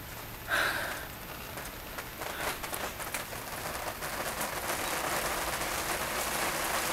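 Light rain patters steadily on a surface, a soft continuous hiss that thickens slightly over time, with a brief knock near the start.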